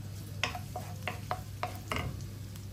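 Garlic dropped into hot cooking oil gives a soft, steady sizzle under a low hum, with several sharp scraping clinks of a spatula stirring in the pan.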